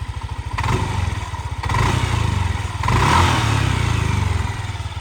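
A 2015 Yamaha NMax 125 ABS scooter engine runs steadily and close by, with a smooth idle hum rising in three brief revs.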